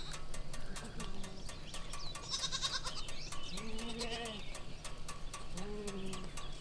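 Several goats, including nanny goats, bleat in drawn-out, wavering calls, close and loud, over a constant background rattle and noise.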